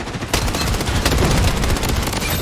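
P90 submachine gun with the BloodCrystal skin firing in the shooter game Blood Strike: one loud, unbroken rapid-fire burst starting abruptly and continuing to the end, with no voices over it.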